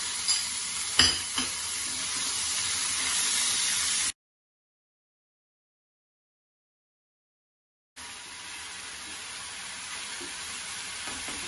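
Small tomato pieces sauté with ginger garlic paste in a pan for prawn masala, giving a steady close sizzle with a few stirring knocks. The sound drops to total silence midway, then the frying resumes.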